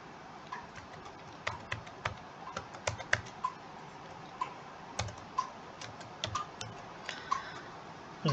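Keys clatter on a computer keyboard as a username and password are typed, with irregular bursts of clicks and short pauses, moderately close, no voices.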